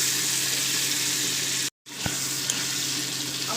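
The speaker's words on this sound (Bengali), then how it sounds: "এটা প্রথমে একটু ভাজা করে নেবো।" Fish fat sizzling in oil in a pan for a Bengali fish curry with kochu and potato, a close continuous frying hiss with a short gap and a couple of faint clinks afterward.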